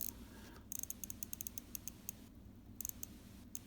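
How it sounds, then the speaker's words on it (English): Quiet, crisp ratcheting clicks come in quick irregular runs as the bezel of a Citizen Promaster Aqualand Depth Meter watch is turned, heard close over a low background hum. "You can hear the clicking. So that's the That's the bezel."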